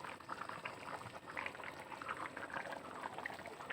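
Khichuri bubbles and simmers in a pot over heat, a soft, continuous burble of small pops, faint and close, with no talking.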